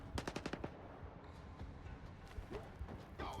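Gunfire in the video game S.T.A.L.K.E.R. 2: a rapid burst of automatic shots at the start, then scattered sharper shots and game noise, fairly loud.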